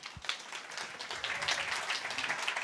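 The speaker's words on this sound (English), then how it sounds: "round of applause for them." Audience applause for two presenters at a London industry conference, a steady, moderately loud patter of clapping across the room with no clear voices.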